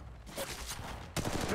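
Gunfire in the Apex Legends Mobile video game, a dense, loud fusillade of rapid shots that starts after a short pause, eases, then bursts again near the end.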